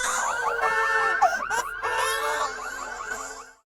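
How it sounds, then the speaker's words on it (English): A car alarm whoops and warbles loudly in rapid, repeating sweeps, close by, then cuts off abruptly. "the car alarm from the couple downstairs keeps going off in the middle of the night"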